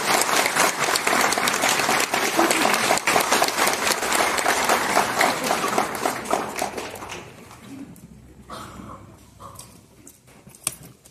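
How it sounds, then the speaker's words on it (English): A wedding crowd applauds steadily for several seconds, then the clapping thins out and fades to scattered claps near the end. "shall we all give a big hand of applause after they do it?"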